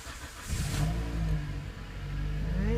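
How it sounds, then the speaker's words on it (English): A 2006 Toyota Matrix with a returnless fuel system cranks and catches, its mid-pitched engine settling into a steady, loud idle rumble close by with no talking. "So here we go. Let's give her a start."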